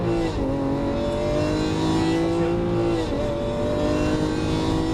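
A Lamborghini Aventador at full throttle on a race track, its engine roaring loud and steady with rising pitch through the gears and a brief dip at each upshift.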